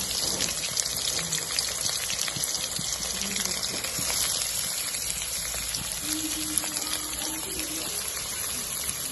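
Chopped shallots and green chillies frying in hot oil with cinnamon and cloves, a steady close hiss and crackle of sizzling filling the whole stretch without talk.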